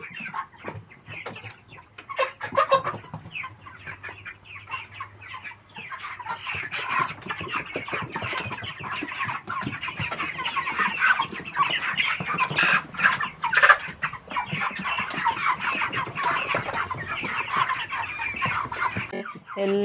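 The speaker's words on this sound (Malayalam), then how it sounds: "നമ്മളിന്ന് ഞായറാഴ്ചത്തെ കച്ചവടത്തിന് വേണ്ടി കൊണ്ടുവന്നിട്ടുള്ള കോഴികളാണ് കേട്ടോ" Chickens brought in for a Sunday sale cluck and squawk steadily and fairly close, a busy, overlapping flock chatter that runs the whole time with no talking.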